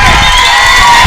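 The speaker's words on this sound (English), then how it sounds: "Crowd now into it." Loud, dense crowd roar from a high school football game between Knob Noster and Lighthouse Christian Academy, steady cheering and shouting filling the whole moment ahead of a big third-down play.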